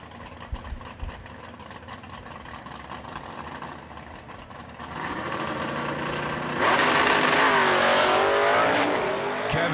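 Drag racing cars, a 1979 Mustang and a 1969 Camaro, at a drag strip, engines building from a steady roar to a loud, sustained full-throttle blast in the second half.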